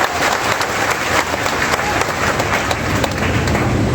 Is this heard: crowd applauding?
yes